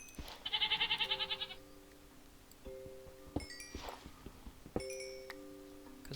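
A single stuttering Minecraft goat bleat rises early, a rapid wavering cry lasting about a second. It is followed by several sharp electronic chime-like tones and clicks from the game.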